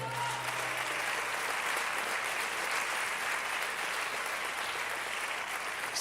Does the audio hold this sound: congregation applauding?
yes